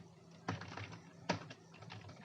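Typing on a computer keyboard while coding, a few soft scattered keystrokes with two sharper clicks, quiet and close, with no voices.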